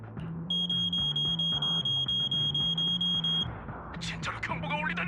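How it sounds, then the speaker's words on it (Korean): An alarm goes off in the video game Zenless Zone Zero, a loud, repeating high electronic beep pulsing steadily for several seconds over rhythmic game music, then cutting out as brief whooshing effects follow. "진짜로 경보가 울리다니."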